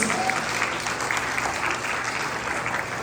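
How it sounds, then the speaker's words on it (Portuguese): A church congregation at a worship service applauds its volunteers with steady, dense clapping that holds at an even level across the whole stretch, with a faint low hum beneath. "Uma salva de palmas a todos os nossos voluntários"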